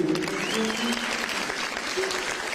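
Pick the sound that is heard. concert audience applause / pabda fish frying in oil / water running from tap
concert audience applause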